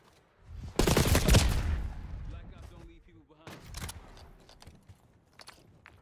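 A loud burst of gunfire while pre-firing corners in a Black Ops 6 match, followed by scattered quieter shots and movement sounds, with talking mixed in.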